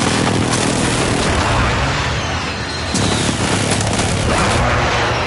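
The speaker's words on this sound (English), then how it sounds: "Strike inbound." Continuous battlefield din from an airstrike in the Warzone video game: booming explosions and rattling gunfire overlap into a dense, loud roar that never lets up.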